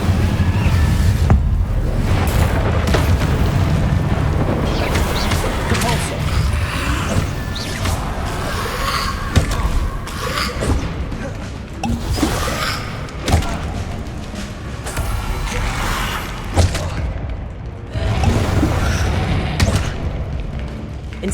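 Incendio fire spell cast repeatedly in Hogwarts Legacy, a barrage of booming, crashing bursts and thuds in steady succession amid game combat noise, with no one talking.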